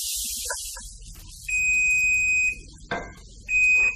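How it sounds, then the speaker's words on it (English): A kitchen timer goes off while onions caramelize on the stove. It gives two sustained, high electronic beeps, each about a second long, close and loud, with a short clatter between them. "There goes my timer."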